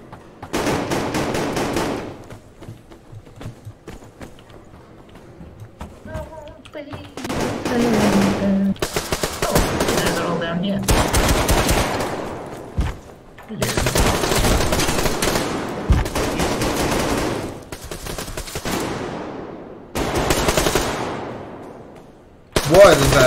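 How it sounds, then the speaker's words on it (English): Automatic gunfire in the online shooter Survarium rattles out in long, loud, dense bursts of many rounds, several volleys separated by short quiet gaps. "I just hear a lot of rounds being fired."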